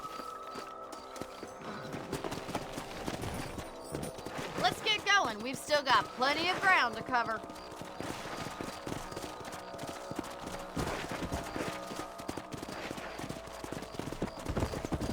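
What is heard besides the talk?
horses' hooves clip-clopping, from video game Red Dead Redemption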